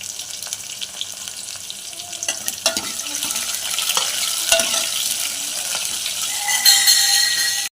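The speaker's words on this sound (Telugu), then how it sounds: "పోపు దినుసులు వేగుతున్నాయి" Tempering spices and dried red chilies frying in oil for rasam, a steady sizzle broken by scraping stirs and clinks, growing louder toward the end.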